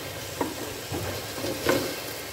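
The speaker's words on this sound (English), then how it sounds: "Now add the finely chopped tomato. Mix the tomato and the onions well" Finely chopped tomato and sautéed onions get mixed in a frying pan for spicy ghee pepper chicken roast, a steady sizzle under a few soft scraping stirs, close and moderately loud with no voices.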